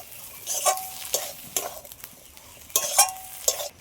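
Leafy greens being stir-fried in a pan give soft intermittent sizzles and a few spatula scrapes, fairly quiet and alone.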